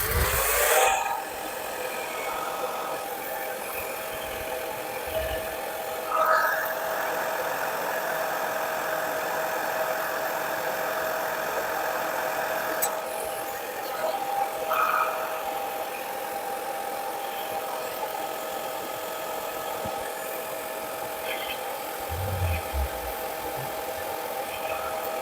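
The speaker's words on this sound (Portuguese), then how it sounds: "E agora eu vou vir com o secador. Vou dar uma secada, então vai fazer um pouquinho de barulho." A hair dryer blows on wet paint, a steady mid-pitched whirring drone running continuously at close range, with only slight changes as it moves.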